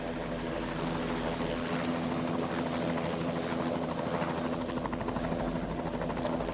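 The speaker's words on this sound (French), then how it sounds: "le sommet se dégage et l'hélicoptère peut décoller." A helicopter takes off from a mountain summit near the rift above Lake Natron, its rotor a loud, steady, rhythmic chopping under a droning engine, continuous and close throughout.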